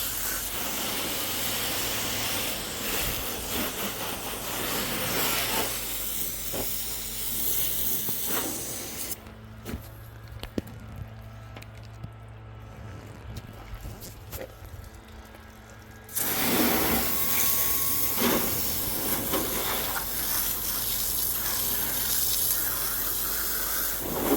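Pressurized water sprays against car wheels and into the wheel wells, a steady hissing rush that cuts out for several seconds midway, then resumes strongly; no talk.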